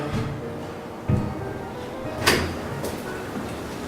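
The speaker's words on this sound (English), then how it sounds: "a quick easy way is pretty well just closing the door." A door swinging shut during installation of a noise-blocking shield, with a soft thud near the start and a sharper latch-like knock midway through the clip, close by in a quiet room with no talking.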